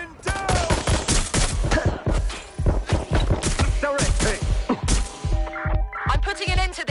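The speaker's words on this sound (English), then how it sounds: "Shots fired!" Rapid bursts of gunfire in the video game Watch Dogs, loud and close, with dense repeated shots and thuds over several seconds, mixed with shouting voices.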